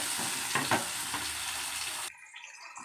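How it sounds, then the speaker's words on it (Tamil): Food sautéing in a pan, a steady close sizzle and crackle with brief stirring scrapes, cutting off abruptly near the end to quieter kitchen noise. "நல்லா வதங்கட்டும்."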